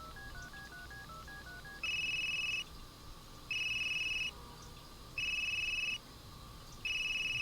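Phone call placed in the mobile game Unheard: a quick series of dialing tones, then a steady electronic ringback tone pulsing in four even, evenly spaced rings, clear and alone without voices.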